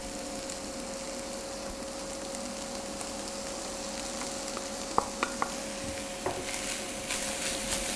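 Spinach tossed into a hot pan of browning veal, a steady loud sizzle and frying hiss throughout with a few light clinks of a utensil stirring near the end.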